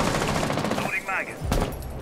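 Rapid automatic gunfire in a Rainbow Six Siege match, a steady burst of shots filling the clip under a brief spoken remark, loud and close.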